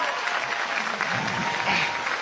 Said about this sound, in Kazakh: Шапалақ аплодисменты!